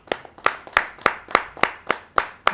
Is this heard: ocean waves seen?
no